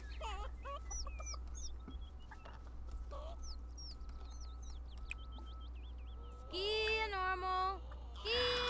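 Chickens clucking in The Sims 4, with repeated short chirpy calls and a burst of louder squawking near the end over a constant low game hum.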